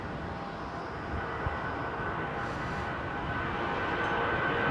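A Rolls-Royce powered airliner at London Heathrow, runway 27R, makes a steady, dense roar that holds at a constant level throughout with no voices.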